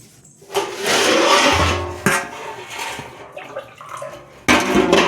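Water pours and splashes as it is mixed into coconut paste, a loud gushing stretch followed by sloshing stirs and a final burst of pouring, close and without talk.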